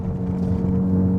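A 2022 Subaru WRX engine pulls under turbo boost, a steady, loud low drone that holds from start to finish with no one speaking.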